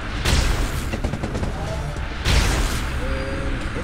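Spaceship weapons fire at a locked target in the space game Second Galaxy, with two heavy booming volleys about two seconds apart over a dense, noisy battle backdrop.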